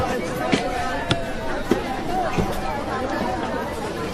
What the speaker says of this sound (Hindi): तुम्हारे पटना में कितनी भीड़ है भाई